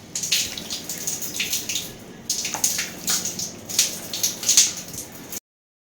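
Water runs from a tap during face washing in a skin care routine, an uneven splashing stream with bursts and pauses as hands scoop and rinse, fairly close and steady for several seconds.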